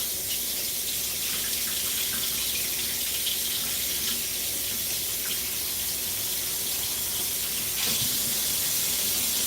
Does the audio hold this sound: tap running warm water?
yes